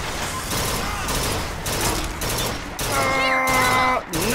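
Rapid Gatling gun fire in the shooter game Bioshock Infinite, a dense continuous burst of rounds running through most of the stretch, loud and close, mixed with game effects and a brief tonal chime near the end.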